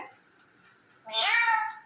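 A single clear, drawn-out meow sounds up close after a brief quiet stretch, a parrot imitating a cat's call.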